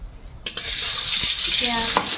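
Dried red chillies frying in oil, a bright close sizzle that bursts in abruptly and carries on steadily, with a few clinks of a utensil against the pan.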